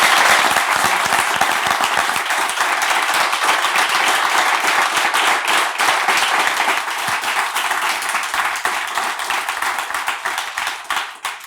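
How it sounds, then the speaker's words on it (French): A church congregation breaks into loud, sustained applause, dense and close, with many hands clapping at once and easing slightly toward the end, no voices standing out above it. "Est-ce qu'on peut applaudir très fort?"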